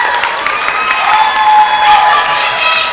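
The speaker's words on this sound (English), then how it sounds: "Let's welcome him with a round of applause." Loud crowd applause mixed with cheers and whoops at a university summer campus graduation ceremony, a dense sustained roar welcoming a student speaker to the stage.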